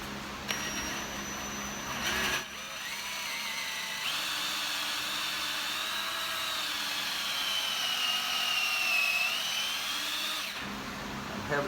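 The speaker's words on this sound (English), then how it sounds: "Now we're going to drill the other side of the top piece." A power drill whines steadily as it bores into a wooden bunk bed piece, a continuous grinding drone with a slight rise in pitch near the end.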